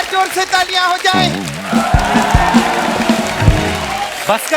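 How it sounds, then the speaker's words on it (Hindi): A studio audience on The Kapil Sharma Show breaks into another loud round of applause and cheering, following a voice at the start and sustained for several seconds before talk resumes briefly at the end. "और एक बार जोर से तालियां हो जाए"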